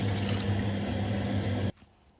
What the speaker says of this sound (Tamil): இப்போ நான் அரை கிலோ அரிசிக்கு ஒரு லிட்டர் தண்ணி சேர்க்குறேன்